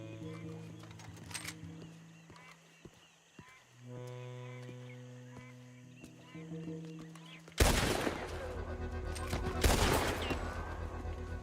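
Gunfight in the video game Red Dead Redemption 2 erupts into loud, dense gunfire after a quieter stretch of ambient sound, with shots crackling continuously through the final few seconds.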